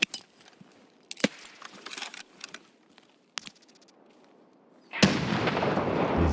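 A grenade blast in the video game Escape From Tarkov erupts suddenly and loud, then rolls into a sustained roar through the end, after a stretch of scattered faint clicks and sharp distant pops.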